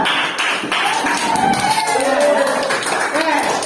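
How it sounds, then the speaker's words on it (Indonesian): Students in a classroom clap their hands, a loud, close burst of taps and claps with some thumps, while voices carry on over the clapping. "Beri tepuk tangan."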